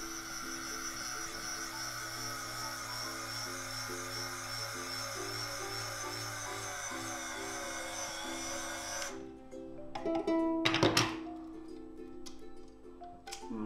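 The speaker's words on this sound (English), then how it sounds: "I'm just going to make sure it's in nice and tight before I start to wind the string round." New string wound onto a ukulele tuning peg: a steady, close whirring tick of the peg turning for several seconds, then louder scattered clicks and a sharp snap-like rattle as the winding stops.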